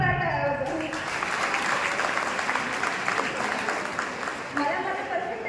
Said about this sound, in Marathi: त्याबद्दल सर्वांनी जोरदार टाळ्या वाजवा